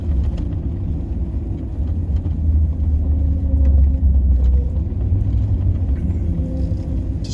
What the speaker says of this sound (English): Just been using the truck in four-wheel